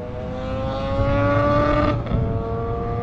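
The engine of a Yamaha RD350LC motorcycle, a steady, loud, buzzing tone held at high revs close by that dips briefly near the end.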